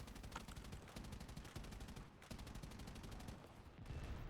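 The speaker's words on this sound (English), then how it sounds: "looks like my tail gunner is opening fire" Rapid, sustained machine-gun bursts from a tail gunner's turret on a bomber in War Thunder air arcade combat, steady and dense across the whole stretch with brief pauses, moderately loud over engine drone.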